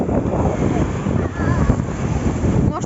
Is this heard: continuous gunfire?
no